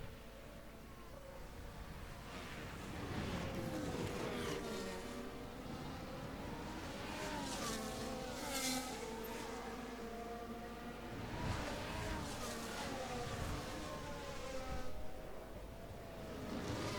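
Formula 1 race cars in a video game racing at the Austrian Grand Prix, engines droning and sweeping up and down in pitch as they pass, faint and distant throughout.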